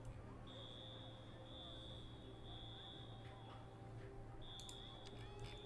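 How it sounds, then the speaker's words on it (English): A steady high electronic tone sounds in the game Cities: Skylines, with a fire alarm going off in a city. The tone is faint and sits under a constant hum, with a few short ticking beeps near the end. "So that'll be the fire alarm going off."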